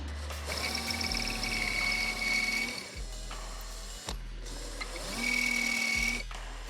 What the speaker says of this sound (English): that horrible metal drilling sound was, and that was, I was actually drilling into the pocket hole jig itself